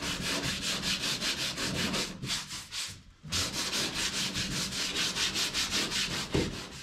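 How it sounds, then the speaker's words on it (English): A boat hull gets light hand sanding in even, rhythmic rubbing strokes, close and steady, with one short pause midway and no talking. "This is just light sanding, just to make it straight."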